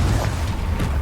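A Confringo spell cast in the Hogwarts Legacy video game, a dense low rumbling burst with muffled booming energy sustained through the moment, loud and close with no voices.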